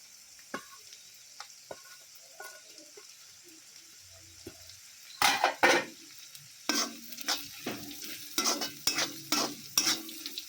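Rice frying in a pan with onion, ginger and green chillies, stirred with sharp scraping, sizzling bursts that start after a few quiet seconds, then come rapidly and loudly, close up, with no talk.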